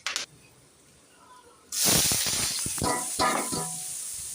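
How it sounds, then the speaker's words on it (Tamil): Fennel seeds, cinnamon, bay leaf and cloves drop into hot oil: after a brief quiet stretch, a loud sudden sizzle bursts up close and keeps crackling and spitting. "சோம்பு, பட்டை, இலை, கிராம்பு இது எல்லாத்தையும் போட்டு பொரிய விடுவோம்"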